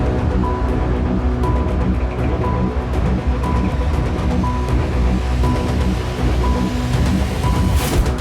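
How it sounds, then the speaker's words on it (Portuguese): Cold rain falls during a motorcycle ride through the French mountains toward Carcassonne, a loud, unbroken roar of rain and wind rush with a faint, regularly repeating tone under it and no voices. "A chuva, eu olhei na meteorologia, não vai parar."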